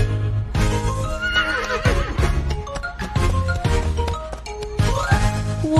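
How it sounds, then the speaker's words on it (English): Horse neighing in a children's animal-sounds song, several loud whinnies rising and falling over clip-clop hoofbeats and a bouncy musical backing. "I see a horse. Neigh, neigh, neigh."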